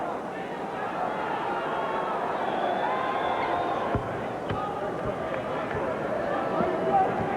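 A basketball arena crowd at a 1988 Celtics versus Pistons game keeps up a steady roar and murmur, with sneaker squeaks and ball thumps scattered through, while a commentator talks over it.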